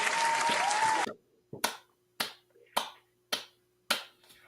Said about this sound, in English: I'm clapping too